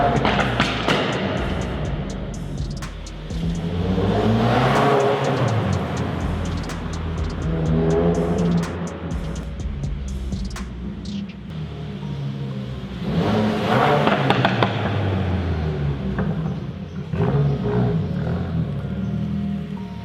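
A 2014 Honda Civic Si coupe engine revs repeatedly inside a parking garage, loud rising and falling roars echoing off concrete with sustained throttle swells and no talking.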